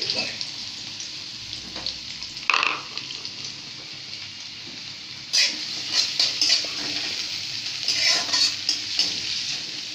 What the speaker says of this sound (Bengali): দেখো তেল দিচ্ছি, এই যে মরিচ, আলুটা ভেজে নেব